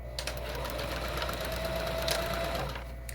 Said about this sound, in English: We're back stitching.